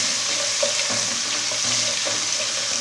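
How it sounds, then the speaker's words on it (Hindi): Ginger paste sizzles steadily in a hot pan of oil for daal mash, a dense, even frying hiss with faint stirring scrapes and no voices. "1 टेबलस्पून अदरक का पेस्ट, हल्का गोल्डन कर लेंगे।"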